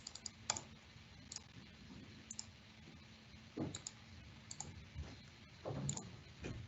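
Keys tap out a login username and password on a computer keyboard, sparse light clicks in short bursts with pauses between, close and fairly quiet.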